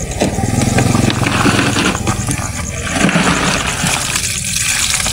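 Freshly caught mud crabs are washed in water at night, with sloshing and splashing under a steady motor-like rumble close by.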